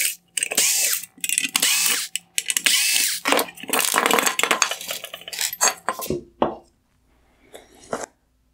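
Four T20 Torx screws being backed out of the LED drive unit bracket on a 2016-2019 GMC Sierra full LED headlight, with dense metallic clicking and rattling of tools and small parts, loud and close, fading to near silence at the end.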